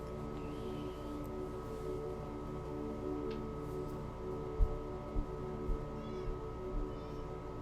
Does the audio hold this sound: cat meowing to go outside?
yes